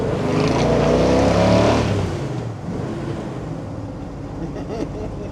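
A 1970 Chevrolet K10 truck with a small block 383 stroker engine revs loudly and roughly up close, the deep roar easing after about two seconds into a lower, rumbling idle.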